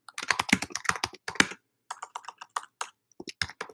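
Quick bursts of typing on a computer keyboard in a university classroom, crisp close key clicks in rapid runs broken by short pauses, no talking over them.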